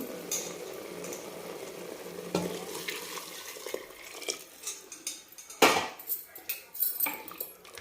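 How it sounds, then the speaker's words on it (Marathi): Hot water is poured into a pressure cooker holding mutton, giving quiet splashing and trickling along with metallic clinks and scrapes of a utensil against the pot, with no voices. "तर आता याच्यामध्ये आपण हे गरम पाणी टाकून घेऊ"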